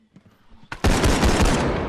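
A brief quiet lead-in, then a sudden loud burst of rapid automatic gunfire in a video game that continues nonstop to the end, with no talking.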